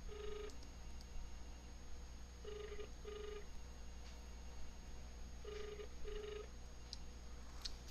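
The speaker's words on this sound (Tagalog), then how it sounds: "Tawag tayo sa landline." A landline ringback tone sounds after dialing from a mobile with an upgraded SMART/TNT LTE SIM: paired ring bursts repeat at steady intervals, moderately quiet over a constant low background hum.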